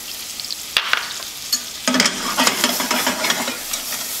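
Half a stick of butter and six tablespoons of flour cooking into a roux in a pan, heard as a close bubbling sizzle with scraping stirs that grows busier after the first couple of seconds, with no talking.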